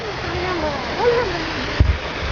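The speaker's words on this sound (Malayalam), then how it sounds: "ഇവിടെ ചെറിയൊരു വെള്ളച്ചാട്ടമുണ്ട്." A small waterfall at Al Rafisah Dam in Sharjah rushes as a steady broadband wash, with a voice-like tonal sound rising over it midway and a brief thump near the end.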